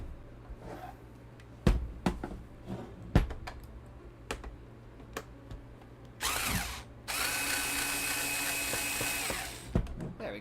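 Power screwdriver backing screws out of a Super Nintendo console, with short clicks and handling sounds followed by two close bursts of motor whir, the longer one running about two seconds.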